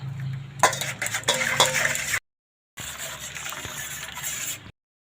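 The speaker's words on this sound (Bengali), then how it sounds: "করে সব কিছু গুলে নেব চামচটা দিয়ে" A spoon clinks and scrapes against a metal basin as baking soda is stirred into hot water, with sloshing and scraping in two bursts split by a short silence.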